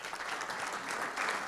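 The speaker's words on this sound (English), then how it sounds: "Let's give them again a strong hand of applause" An audience claps in a dense, steady burst of applause that lasts the whole short moment, with no voices over it.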